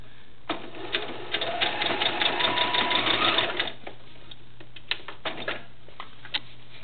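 A sewing machine runs in a fast rattling burst of stitches while sewing the legs onto a cloth Vanessa Valentine doll, then stops, followed by a few scattered clicks and light handling taps.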